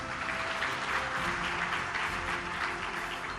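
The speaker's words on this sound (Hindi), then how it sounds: "मैं जोरदार तालियां आप सबकी चाहता हूं।" Steady audience applause at a scholarship career-guidance event, dense clapping held evenly throughout at moderate level with no talk over it.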